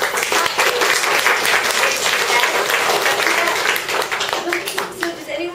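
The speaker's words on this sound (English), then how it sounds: "please join me in giving a round of applause to Greg" An audience at a talk gives a loud, sustained round of applause for Greg, dense clapping from a large crowd continuing throughout with a slight dip near the end.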